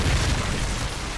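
A Predator missile strike detonates in Modern Warfare 3 online play, a loud, dense low boom that rolls on steadily without any talk over it.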